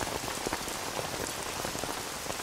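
Steady rain pours down on surfaces, a dense even hiss of close raindrops with no voices over it.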